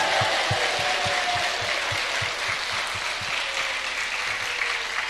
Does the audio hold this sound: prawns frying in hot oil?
no